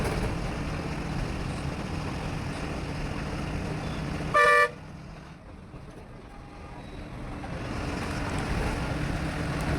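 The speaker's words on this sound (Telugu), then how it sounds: "మొత్తం ట్రాఫికే" City traffic rumbles around a KSRTC bus on the Bangalore–Mysore road, with a steady roadway wash and one short, sharp horn toot midway, fairly close.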